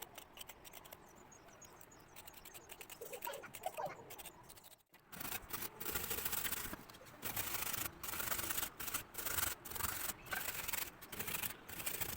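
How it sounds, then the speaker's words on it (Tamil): Carrots are grated by hand for carrot halwa, giving quiet, rhythmic rasping scrapes, each stroke repeated at a steady pace after a brief softer start, close by and alone. "இப்போ வாங்க இந்த கேரட்டை துருவி எடுத்துக்கலாம்."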